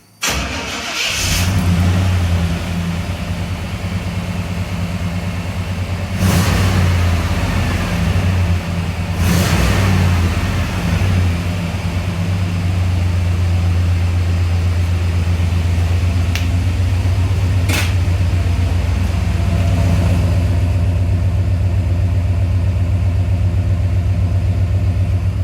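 A Chevy truck with stock exhaust cranks and fires up, gives a couple of short revs, then settles into a steady, loud low rumbling idle, heard up close with no talk.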